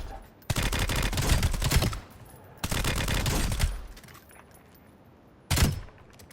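Automatic weapon fire in Call of Duty Warzone comes in three loud, rapid bursts. The first two each last about a second, and a shorter third follows after a quiet pause. No speech is heard.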